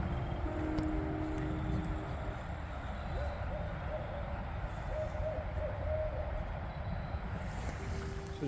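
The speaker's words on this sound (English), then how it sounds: "I've been hearing a barred owl calling across the creek" A barred owl hoots faintly in the distance across a creek, a few soft calls barely rising above steady outdoor wind and running-water noise.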